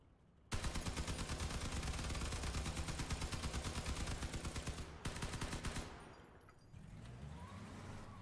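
Sustained rapid gunfire in the Crossout vehicle combat game, rounds hammering into a vehicle, loud and continuous for several seconds, then a brief cut and a rougher burst that fades into lower engine rumble.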